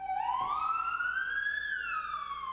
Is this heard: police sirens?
yes